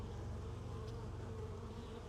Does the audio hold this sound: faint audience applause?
no